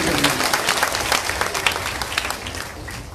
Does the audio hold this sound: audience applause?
yes